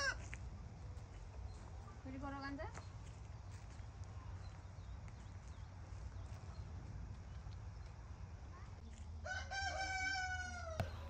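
A rooster on a farm in California crows twice, once briefly early on and again louder near the end, over a quiet outdoor background with faint low rumble.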